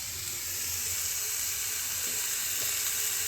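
Carrots frying gently in ghee in a pan for halwa, a steady close sizzle and hiss that holds even all the way through, with faint stirring clicks and no talk.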